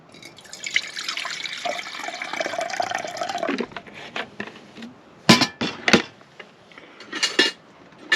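A quarter litre of water is poured into a pot beside a spirit stove, a steady splashing pour for about three and a half seconds, followed by a few sharp clinks and knocks of the metal pot.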